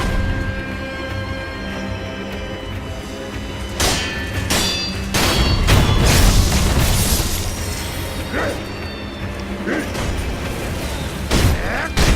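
Firecrackers going off in the video game Sekiro, a handful of sharp pops and thuds at uneven intervals over low game ambience, one burst louder and busier than the rest.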